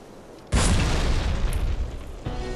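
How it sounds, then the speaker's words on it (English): A grenade detonates in the video game Halo 2, a sudden loud boom followed by a long, dense rumbling roar that fades slowly, with a second thump near the end. "chuck a grenade near down there and then get it to jump"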